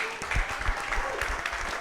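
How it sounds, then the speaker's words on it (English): An audience at a music artist forum applauds the panelists, a steady round of clapping lasting a couple of seconds with some voices mixed in. "Let's give them all another round of applause, please"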